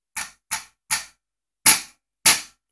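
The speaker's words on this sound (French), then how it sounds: "Le catalyseur qui s'est dessoudé de l'intérieur, du coup ça vibre." A loose catalytic converter rattling inside the exhaust of a 2015 Beta RR 50 motard, its welds broken inside: five sharp, isolated metallic clacks, the last two louder, spaced irregularly with silence between.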